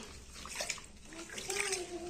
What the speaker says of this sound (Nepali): म चाहिँ फाइनली धुँदैछु साथीहरू